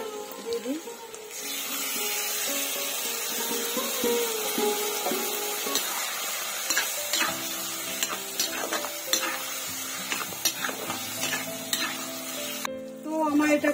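Spiced masala for a koi fish curry with kochu (taro) sizzles steadily in a hot pan while a spoon scrapes and stirs it in repeated strokes, close and fairly loud throughout, with a voice speaking over the cooking.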